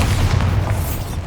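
Bombarda blast spell from the game Hogwarts Legacy: a single deep, loud booming explosion with a heavy low rumble that rolls on and slowly decays across the whole moment, with no talk.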